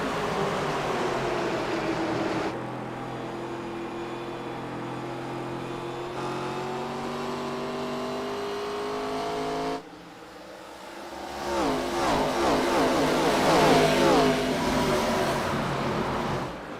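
Race cars in the VSRL ARCA Series sim racing game at Milwaukee roar as they accelerate into turn one, engines revving loud and close in a steady, layered drone that surges after a brief dip near the end.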